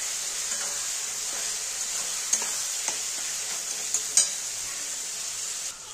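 A paste of ginger, cumin, onion and garlic with salt is stir-fried in a pan, giving a steady soft sizzle broken by a few sharp scrapes and clicks of the spatula.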